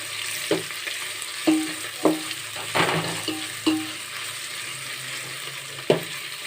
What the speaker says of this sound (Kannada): ಮೆಣಸಿನ್ಕಾಯಿ ಸೇರಿಸ್ಬಿಟ್ಟು ಈ ಥರ ಮತ್ತೆ ಬಾಡಿಸ್ಕೋಬೇಕು